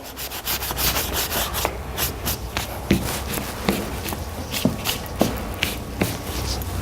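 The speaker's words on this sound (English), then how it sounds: "Just going to come over with my rag and start pulling back some of that paint too" Rhythmic scrubbing strokes of a rag rubbing paint off a canvas, a dry swishing repeated about twice per second, close up.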